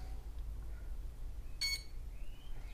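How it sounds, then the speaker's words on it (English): An electronic speed controller on a Tarot-frame hexacopter drone with an APM flight controller beeps during throttle-range calibration: one short, bright electronic beep in the middle over a low steady hum, fairly faint and alone. "Okay, it's beeping."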